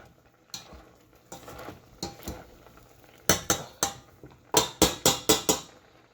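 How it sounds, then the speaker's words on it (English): A potato masher pounds hot boiled blackberries in a pot, giving a series of close, sharp knocks and squelches that start sparse and grow into a quick, steady rhythm of about a dozen strikes. "take your potato masher. Ooh, that's hot. And really grind up those blackberries."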